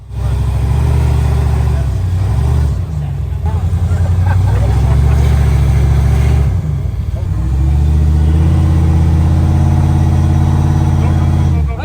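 Off-road vehicle engine revving hard on a rough, steep trail section at Big Bear, loud and sustained with surging throttle and a brief dip midway, while people talk over it.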